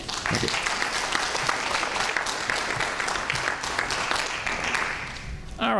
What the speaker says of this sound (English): can we have applause for Dave